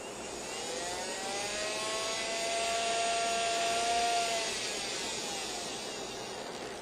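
A small electric motor, driven through an LC circuit alongside a light bulb, whirs steadily and swells into a louder, rising whine as it speeds up at the circuit's resonant frequency, then eases back slightly. No talking.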